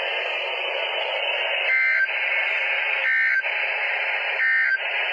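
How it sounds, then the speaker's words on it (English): An emergency alert system test tone broadcast over weather radio, a steady harsh two-tone buzz droning continuously with brief periodic shifts in pitch, loud and alone. "This is a test of the emergency alert system."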